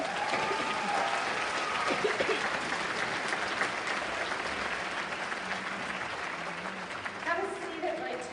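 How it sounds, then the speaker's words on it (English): An audience at a 2019 convocation applauds steadily as three volunteers come up onto the stage, a broad sustained wash of clapping with voices talking and calling over it throughout. "let's do applause as they come up"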